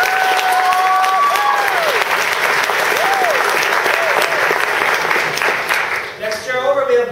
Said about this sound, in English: Start with a round of applause.